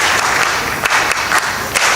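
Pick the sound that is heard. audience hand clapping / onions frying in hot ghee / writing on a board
audience hand clapping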